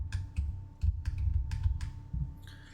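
Computer keyboard keys tap in an irregular, close run of several keystrokes, fairly clear with a faint steady hum beneath.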